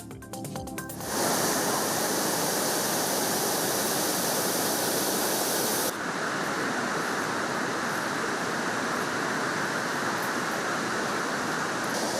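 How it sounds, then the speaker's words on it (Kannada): Water released from the Harangi reservoir dam roars in a loud, continuous broadband rush, steady and unbroken throughout, as if heard close to the outflow. "ಹಾರಂಗಿ ಜಲಾಶಯದಿಂದ ನೀರು ಹರಿಸಲಾಗಿದೆ"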